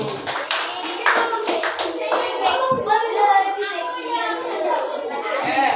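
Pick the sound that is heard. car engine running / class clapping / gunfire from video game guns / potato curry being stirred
class clapping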